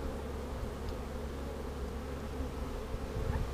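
Honey bees buzzing steadily during a beehive inspection, a dense, continuous drone from many insects close by, filling the scene without pause and with no voices.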